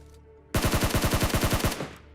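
A rapid burst of automatic gunfire in PUBG Mobile knocks down an enemy, about a dozen sharp, evenly spaced shots fired in just over a second, loud and close, then the sound cuts off.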